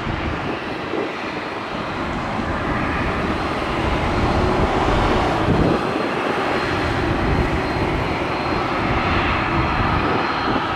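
An airliner takes off from runway 1 left at Tampa, its broad, loud engine roar rumbling steadily and building slightly over about eleven seconds, with no talk.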